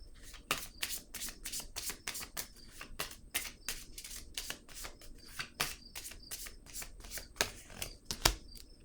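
Tarot cards being shuffled and drawn by hand, a quiet, steady flurry of crisp riffling snaps and slides repeating close up for several seconds, with a louder flick near the end.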